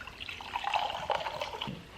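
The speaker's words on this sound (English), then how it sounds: "Is that a heavy pour?" Rosé wine pouring into a glass in a short, steady trickle with light gurgling, close and fairly quiet, with no talking.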